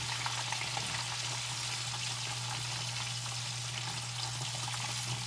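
Pork sizzles and fries steadily in a pan just after being flipped, a dense, continuous crackle at close range with no talking.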